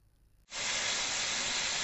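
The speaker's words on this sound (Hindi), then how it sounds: "इसे 3 से 4 मिनट के लिए भूनेंगे, जब तक चिकन का कलर ना चेंज हो जाए।" Raw chicken with salt hits hot oil in a karahi, bursting into a loud, sustained sizzling hiss after a brief quiet moment, then frying steadily and close.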